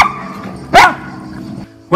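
A Malinois dog gives a single loud, sharp bark during an aggression test at a dog training centre, with a quieter bark starting right at the end over a steady low background hum.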